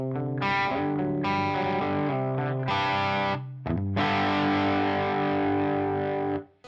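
High-gain distorted electric guitar run through a Line 6 HX Stomp XL, playing loud sustained chords and phrases in several bursts with brief gaps, ringing out thick and saturated before cutting off at the end.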